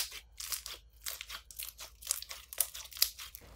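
Pink strawberry-yogurt scented mochi slime, a borax-free clay mixed from powder and water, is squeezed with quick crisp crackling pops of bursting air bubbles in an irregular rapid rhythm, close and fairly quiet, with no talking.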